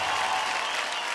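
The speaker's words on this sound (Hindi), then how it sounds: "जोरदार तालियां हो जाए।" Dense, sustained audience applause in a television singing competition studio, cheering a singer after her performance, loud and continuous without speech.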